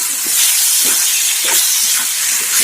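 Pork pieces hitting hot oil in a pan, giving a loud, continuous bright sizzle and hiss with small crackling pulses throughout, close up and without talk.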